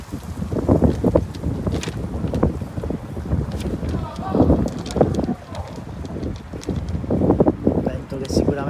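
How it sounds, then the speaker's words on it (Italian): Strong gusting wind buffets the microphone at an outdoor under-14 youth football match in Sicily, a steady broadband roar throughout with no one speaking. "Vento che sicuramente non sta rendendo la vita facile alle due squadre"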